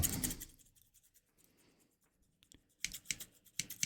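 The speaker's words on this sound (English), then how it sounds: "the scissors from 3dB barber" Barber scissors snip close to the microphone for ASMR, a loud crisp burst at the start, then soft scraping, then a quick run of sharp metallic cuts near the end.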